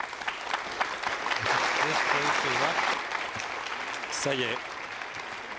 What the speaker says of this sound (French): les applaudissements fusent, la joie peut enfin éclater